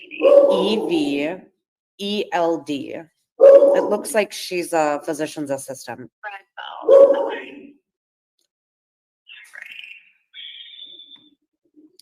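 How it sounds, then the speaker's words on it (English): Dogs barking and yipping in the background of a phone conversation, loud sharp barks overlapping a woman's speech, then a few faint distant yips near the end. "I'm sorry about my dogs in the background."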